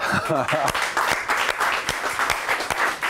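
A studio audience at a French talk show claps loudly and densely for a guest, the applause filling the space while voices talk over it.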